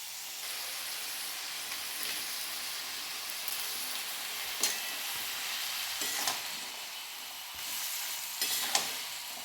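Cabbage and spiced vegetables frying in a kadai after a splash of water, a steady hiss of sizzling broken by a few sharp stirring clinks, with no one talking.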